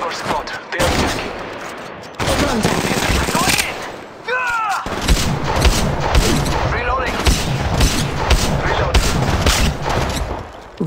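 Dense gunfire from an attacking squad in Apex Legends Mobile, loud overlapping shots and bursts, nearly continuous, with game voices talking over the fighting.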